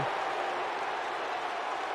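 A steady wash of crowd cheering and applause from a wrestling match in the WWE 2K19 video game, continuous and even throughout with no spoken voices.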